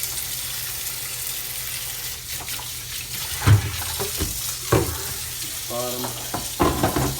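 Clean water runs steadily from a tap into a sink while a Japanese telecomet terminal is being cleaned, joined near the end by several sharper splashes and knocks as things are handled under the stream.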